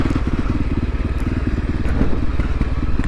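A Voge 300 Rally motorcycle fitted with a 15-tooth front sprocket rolls downhill, its engine a close, steady low rumble with light clatter from the machine.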